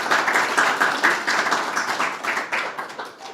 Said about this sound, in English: let's give them a befitting round of applause,